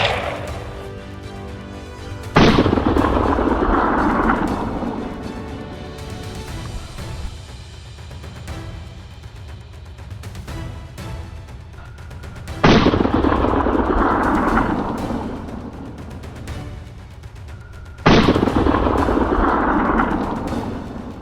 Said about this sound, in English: The gunshot rang out, instantly causing chaos